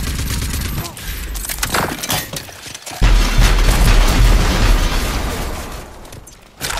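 A heavy explosion in the shooter Rage 2 erupts after a few scattered gunshot-like pops, a loud, sustained booming roar that rumbles for several seconds before fading.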